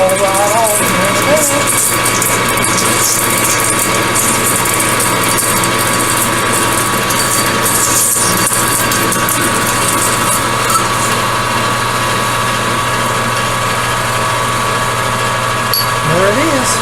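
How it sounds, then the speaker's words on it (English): Machine turning aluminum at about 200 RPM while a hex die holder is modified for hand-held use, with a loud continuous motor whine and hum close by throughout and occasional faint clicks, and someone talks over it. "with aluminum I'll usually run at about 200 RPM like I'm doing"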